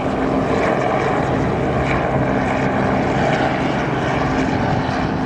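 A loud, steady engine drone of a helicopter overhead, a continuous rumbling roar that holds constant throughout with no voices.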